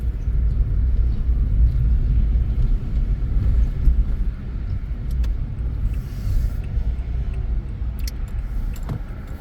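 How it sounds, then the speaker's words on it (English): A Corvette driving on a road among trucks, heard as a steady low engine rumble and road roar that swells and eases as the car goes by. "Corvette wanted me to get out of its way."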